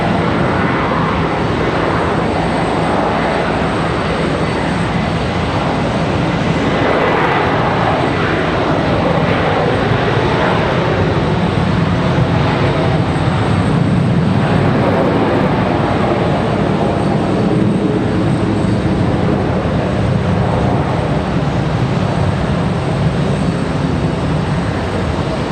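An airliner rolls for takeoff at Charlotte Douglas International Airport, a loud, continuous broadband jet engine roar that holds steady and dense throughout, with no talking.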